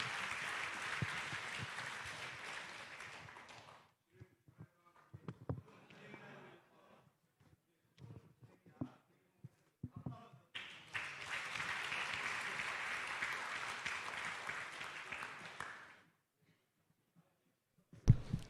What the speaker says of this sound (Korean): 여러분 힘차게 박수 한번 해주시면 마무리하도록 하겠습니다.